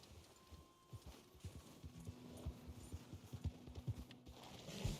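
A horse's hooves clip-clop over ground in Red Dead Redemption 2, a run of uneven, soft thuds at moderate distance that keeps on for several seconds with no talk over it.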